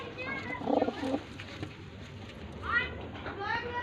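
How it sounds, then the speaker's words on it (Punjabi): Pigeons at a sale of border-bred pigeons, including a black-faced one, give a soft, low coo early on and faint chirps later, under nearby voices and background chatter. "ਇਹ ਵੀ ਕਾਲੇ ਮੂੰਹ ਵਾਲਾ ਕਬੂਤਰ"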